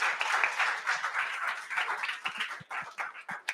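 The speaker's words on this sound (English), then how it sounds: "Give them a round of applause, please." Audience applause after a panel discussion on performing arts and entrepreneurship, fairly faint and thin, a modest scattering of claps that stays fairly even and begins to thin out toward the end.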